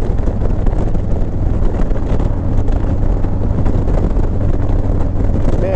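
A headwind buffets a motorbike rider on the road, a constant loud roaring rush of wind across the microphone that drowns out everything else, steady throughout with no speech.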